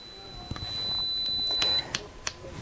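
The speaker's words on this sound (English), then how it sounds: "The IRC PRO has a handy buzzer feature for belling out." A steady high-pitched continuity buzzer tone from a Socket & See IRC PRO insulation and continuity tester sounds for about a second amid faint clicks and handling noise, fairly quiet and close.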